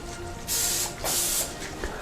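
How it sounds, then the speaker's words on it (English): Cooking spray hisses onto a roasting pan in two short, loud bursts about half a second each, with a brief pause between them and no speech. "Just spray it really nice."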